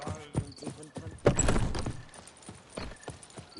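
Horse hoofbeats in the video game The Witcher 3, a series of clopping thuds with a louder burst partway through, mixed with other game sounds.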